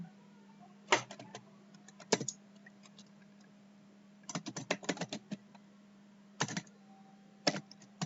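Bursts of keystrokes on a computer keyboard as an address is typed into a Microsoft Word document, clustered in quick runs separated by pauses, close and moderately loud over a steady low hum.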